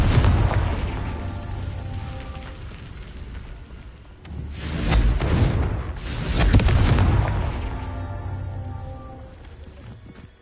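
A blasting-curse explosion from a video game rolls out as a deep, rumbling boom that swells twice over a continuous roaring, crackling bed of noise.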